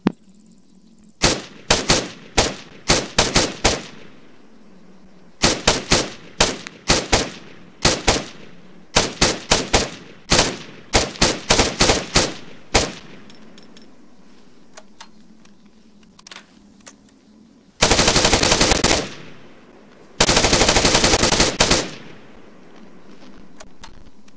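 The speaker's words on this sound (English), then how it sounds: "And that was the TAR-21." Bursts of automatic fire from a TAR-21 rifle in an Israel Defense Forces mod for a video game, several rapid strings of close, sharp shots with short pauses between them, ending in two long continuous roaring bursts.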